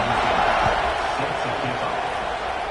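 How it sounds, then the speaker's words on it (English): A football stadium crowd buzzes after a score late in a tied fourth quarter, a broad steady roar of many distant voices that stays even throughout, with a commentator talking over it. "this crowd is buzzing after that last score"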